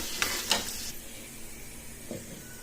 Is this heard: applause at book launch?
no